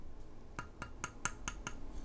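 About seven crisp metallic taps on a metal phone stand that comes with an electronic chessboard, struck at an irregular pace, close and fairly quiet against a faint background hiss.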